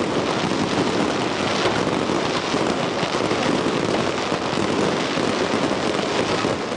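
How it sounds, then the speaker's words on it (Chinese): Colourful fireworks bursting over Magong, Penghu at a summer fireworks festival, a dense continuous crackle and rumble of many overlapping bursts, loud and steady throughout without clear gaps. "五颜六色的烟火在马公上空一发发的绽放"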